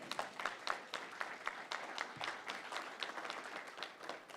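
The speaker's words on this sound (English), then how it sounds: "If that does not deserve a hand clap, I don't know what does." An audience at a press conference claps, a fairly quiet patter of distinct hand claps from a modest crowd, irregular and continuous throughout.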